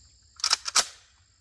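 Ruger PCC pistol caliber carbine firing two or three quick shots at a distant target, sharp cracks close by with a short tail, with no talking.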